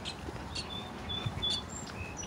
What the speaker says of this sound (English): But listen to the birds.